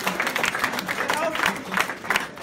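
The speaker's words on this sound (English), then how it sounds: "Clap." A crowd at a coffee product presentation applauding, a dense patter of many hands clapping at moderate loudness, with voices mixed in underneath.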